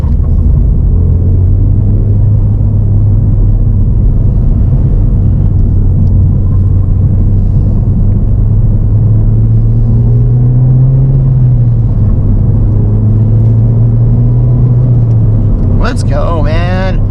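A Ford Fiesta ST engine with a worn motor mount rumbles steadily while driving, a loud, continuous low drone that rises slightly in pitch midway, then a brief higher sound near the end.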